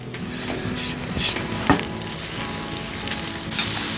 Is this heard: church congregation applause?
no